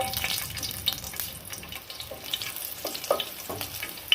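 Five garlic cloves drop into hot oil in a pan where urad dal and chillies were just fried for a Kerala chutney, giving a steady, close sizzle with crackling pops and no voices.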